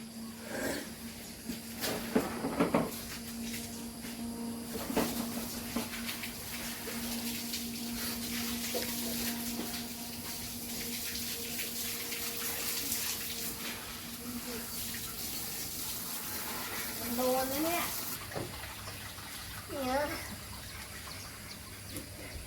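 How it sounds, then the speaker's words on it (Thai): Water runs from a tap to flush dirty water out, a steady faint gush that continues throughout. There are brief louder bumps and a few chirping sounds near the end. "เปิดไล่น้ำสกปรกออกก่อน"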